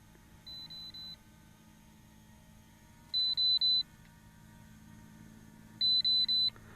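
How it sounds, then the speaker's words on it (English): Soft electronic beeps from a Holystone HS360D drone in flight, sounding as a short group of three, then a pause, then two louder triple bursts, over a faint steady hum with no voices. "Or was that beep always there? I just didn't hear it because it's very soft, I guess."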